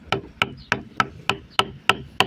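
A wood chisel is driven into wood with eight evenly spaced sharp knocks, each taking a fraction of a second. The blows sound close and crisp.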